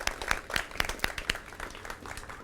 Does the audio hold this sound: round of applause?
yes